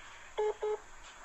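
A telephone is dialed with two short touch-tone beeps in quick succession, clear and fairly close against a quiet background, with no voices.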